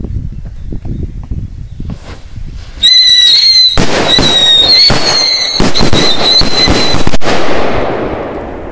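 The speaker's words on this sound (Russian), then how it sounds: "Клевые взрывы. Смотрите, вроде бы все взорвались" A string of firecrackers going off in a forest: a few scattered cracks, then a dense rapid burst of loud bangs and whistling crackle for several seconds, fading into echo and rustle.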